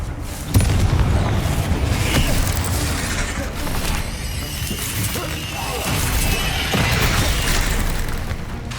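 Confringo fire spell blast in the video game Hogwarts Legacy: a loud, booming explosion with clanking mechanical rattles and a sustained rumbling roar that swells again later.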